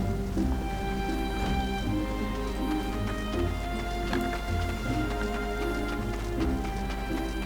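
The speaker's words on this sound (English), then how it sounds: "Ah, it's raining!" Rain falls steadily in Final Fantasy XIV as a constant dense patter with faint clip-clop-like taps, over a continuous game ambience and music bed.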